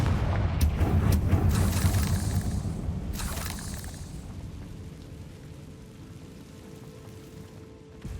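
A Confringo fire spell exploding in Hogwarts Legacy, a heavy booming blast with crackling debris that rumbles and slowly fades into a lingering roar, close and loud, no talking.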